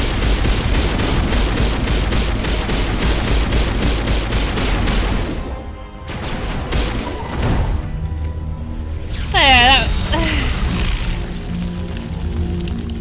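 Rapid gunfire from Mass Effect 1 Legendary Edition rattles in dense, continuous bursts through the first half, then breaks into scattered shots, with a whining sweep of effects near the end; loud and close throughout.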